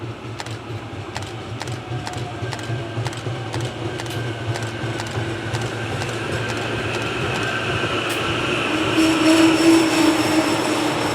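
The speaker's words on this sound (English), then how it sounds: "we then caught a SEPTA train pulling into the station" A SEPTA commuter train of cars 840 and 839 rolls into a station, with a steady rumble, rhythmic clacks of wheels over rail joints, and a thin wheel squeal rising near the end as it slows.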